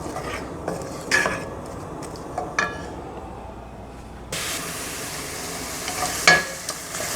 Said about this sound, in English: Add the onions, minced onions and garlic to it. And cook until the onions are translucent.